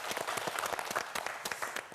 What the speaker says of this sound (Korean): 우리 마지막으로 정현수 학생에게 큰 박수 부탁드립니다.